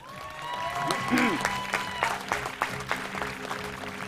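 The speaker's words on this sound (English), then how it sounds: "The nominations are, big applause for all of these, Paul Fieldhouse," An audience at the 2019 Local Hero Awards applauds the nominees, with clapping that builds to scattered distinct claps while a voice speaks over the start.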